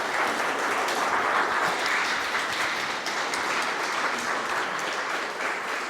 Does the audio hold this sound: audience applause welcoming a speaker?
yes